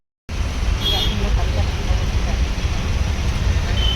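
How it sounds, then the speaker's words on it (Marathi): Heavy road traffic on LBS Road forms a dense low rumble of engines that starts abruptly and carries on steadily, with faint higher hiss and distant horn-like tones above it. "एवढी ट्रॅफिक होती प्रचंड"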